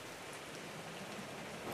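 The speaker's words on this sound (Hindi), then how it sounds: "अबे अबे कैसा बारिश है, तो घर के अंदर कैसे पड़ रहा है?" Steady rain pours down in ARK: Survival Evolved mobile, even falling inside a house, a dense, even hiss that stays constant and fairly loud throughout with no voices.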